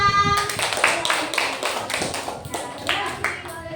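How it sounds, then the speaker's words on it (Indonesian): Schoolchildren in a classroom clap for a presenting group, a quick burst of hand claps mixed with chatter and voices, fairly close and fading after a few seconds. "Ya, tepuk tangan buat kelompok 6."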